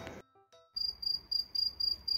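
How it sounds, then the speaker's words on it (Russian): A cricket chirps at night in rhythmic high pulses, evenly spaced and moderately close, following a short burst of other noise at the start. "Слышите, как сверчок сверчит, а?"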